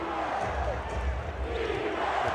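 Basketball arena crowd during an NBA game between the Magic and Trail Blazers, a steady low roar of spectators with faint shouts under a commentator's voice.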